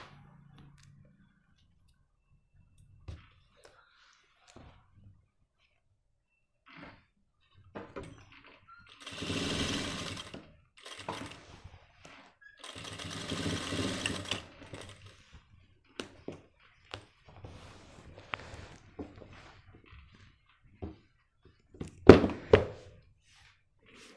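A sewing machine stitches a cross pocket on men's pants in two short bursts, separated and surrounded by scattered taps and handling knocks in an otherwise quiet room.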